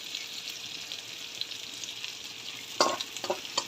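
Green beans fry in rendered pork fat with a soft, steady sizzle. Near the end, a few sharper scrapes and clinks come as the pan is stirred, and no one talks.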